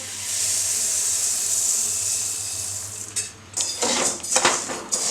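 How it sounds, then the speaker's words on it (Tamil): Coriander seeds roasting in castor oil in a pan give a continuous close hiss and sizzle, joined near the end by louder scraping and stirring strokes. "மீதி இருக்க கொத்தமல்லியை போட்டு வறுக்கிறேன்"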